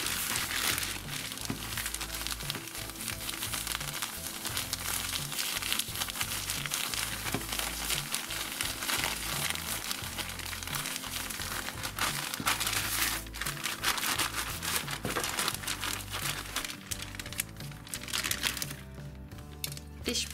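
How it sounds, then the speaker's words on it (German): Continuous crinkling and rustling of a plastic bag of sand being squeezed and kneaded, with gritty shifting of the sand underneath, steady and close for the whole stretch. "Richtig gut zumachen und den Sand in der Tüte bewegen."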